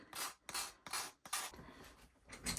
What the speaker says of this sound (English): get our little sander here, and we're just going to sand the sides